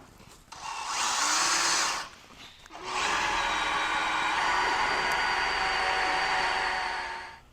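A power drill whines loudly and steadily drilling through a third-generation Toyota Tacoma truck frame, pausing briefly after about two seconds before resuming for a long continuous run, close up with no talking.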